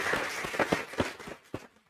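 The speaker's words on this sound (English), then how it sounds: "so we want to give them a big round of applause." A brief round of applause from the audience at a city climate action plan annual meeting, a wash of scattered clapping with a few distinct claps that fades out quickly.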